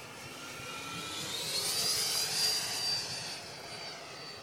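A Viper Jet RC model with a 120mm electric ducted fan (Skimaster, Vasyfan) flies past, its whining fan swelling to a peak mid-pass and fading again, moderately distant with no talk.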